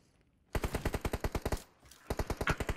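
Automatic gunfire in the PUBG Mobile battle royale game, two sharp rapid bursts of evenly spaced shots with a brief gap between them, crisp and close.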